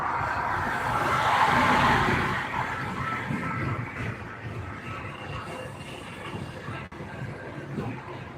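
Cars drive aggressively through traffic, a steady roar of engines and road noise with a swelling rush, faint tire squeal mixed into the continuous wash of passing vehicles.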